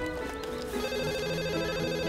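A telephone rings with a steady electronic ringtone, its tonal pattern repeating clearly and close by for the whole stretch, with no talk over it.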